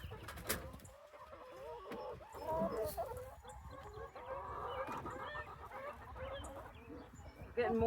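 Hens clucking inside a chicken coop on a homestead, several birds calling close by in overlapping bursts over a steady background.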